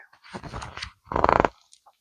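A small golden dog running alongside horses pulling a sleigh through snow at night gives a couple of short, close growling barks with breathy sounds between them, alone without talk.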